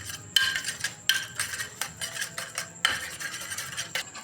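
A spoon mixes a coarse sugar mixture in a bowl, giving close, rhythmic scraping strokes punctuated by sharp metallic clinks against the sides, with no voices.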